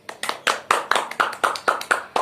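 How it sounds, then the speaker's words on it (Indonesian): A classroom of eleventh-grade students claps in unison, about ten sharp, evenly spaced beats in a steady rhythm, close and fairly loud with no talking. "Tepuk tangan dulu untuk kelas 11 IPA"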